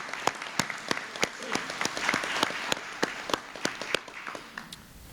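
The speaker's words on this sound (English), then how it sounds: "How about a big round of applause for all of our families" A crowd at a firefighter recruit graduation claps in sustained applause, sharp individual claps standing out over a dense patter, steady for several seconds before tapering slightly.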